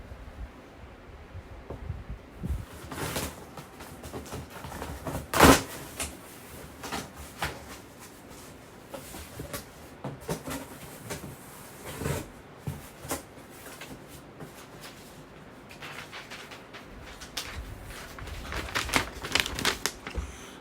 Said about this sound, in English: let's unbox it and let's see what we have